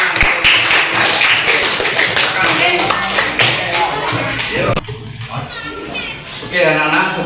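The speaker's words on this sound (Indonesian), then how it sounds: "Oke, kita kasih tepuk tangan." Students in a classroom clapping together in a close, lively burst with distinct hand claps, some shuffling and a voice mixed in, then a brief lull followed by more clapping.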